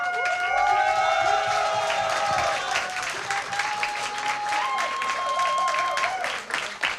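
Crowd applauding and cheering at a StarCraft 2 tournament at IEM Cologne, a loud, sustained roar of clapping with whoops and whistles rising and falling over several seconds.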